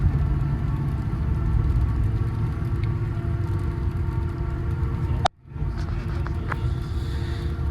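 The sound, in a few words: wrecked Ford F450 4WD Platinum truck driving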